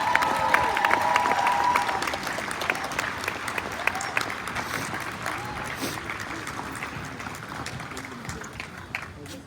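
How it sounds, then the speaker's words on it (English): A crowd at an outdoor demonstration on Parliament Hill bursts into sustained applause with scattered cheers, loud at first and gradually tapering off, with a brief voice near the start. "Please make a round of applause for Sister Sonia."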